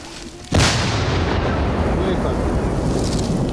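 A loud, sudden artillery blast erupts, followed by a sustained rumbling roar and echo that fills the remaining seconds.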